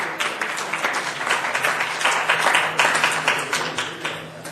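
Audience applause for a raffle winner at an event, a steady wash of many hands clapping at moderate level, fairly close and sustained throughout with no voices on top.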